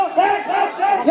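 A large religious gathering chanting slogans in unison, a loud massed crowd roaring rhythmic calls that swell and fall in repeated waves.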